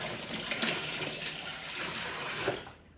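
Water pours steadily into a container being filled for an outdoor open-fire rotisserie cook, a loud continuous splashing rush that tapers off at the end.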